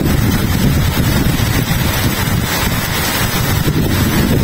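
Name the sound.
strong wind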